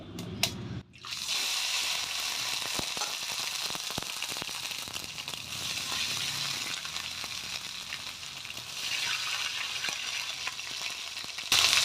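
Ginger and leaf paste sizzles steadily in a hot wok, a loud, close, continuous fry with scattered pops and stirring clicks that runs the whole time after a brief quiet start.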